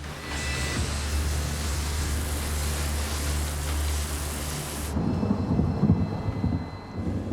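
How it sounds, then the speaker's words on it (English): A heavy, steady roar of rain with deep rumbling thunder underneath, loud and continuous before shifting to a rougher patter. "The rain has finally stopped"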